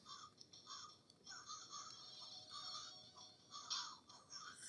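A crow caws repeatedly in a video game, harsh calls coming in uneven bursts over quiet background ambience, with no talking.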